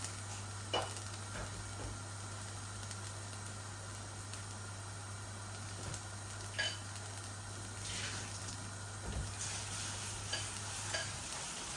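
Spice tempering frying in a pan as ingredients go in, with shrimp added next for a bitter gourd dish: a steady sizzle with intermittent stirring scrapes and clinks, fairly close and continuous throughout, no talking.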